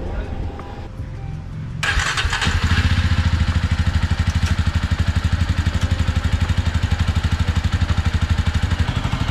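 A Jawa 42 motorcycle that sat unused for over ten days cranks briefly, then catches and settles into a loud, steady, rapid idle thump close by.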